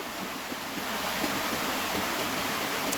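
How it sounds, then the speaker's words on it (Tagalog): Heavy rain pours down in cold weather, a dense, loud, unbroken hiss of broadband noise that fills the short stretch with no voices. "Magulan, kusog, nalamig kayo, gugnaw kayo"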